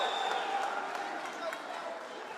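A packed arena crowd at an international MMA tournament keeps up a continuous roar of cheering while a commentator talks over it.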